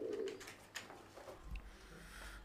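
A Giant Homer pigeon coos softly at a pigeon farm, one throaty burst at the start and then quieter murmurs and faint shuffling in a calm, hushed space.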